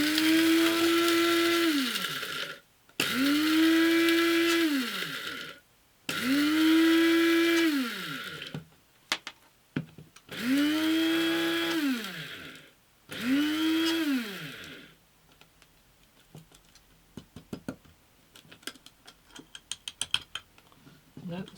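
A high-speed mixer whirs loudly in five bursts of about two seconds each as it dissolves shellac flakes, each burst rising and falling in pitch with short gaps between. Quieter clicks and handling noises follow once the motor stops.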